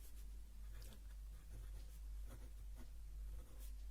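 Writing on a board during a maths lesson, faint intermittent scratching strokes in short bursts over a low steady hum, no voice.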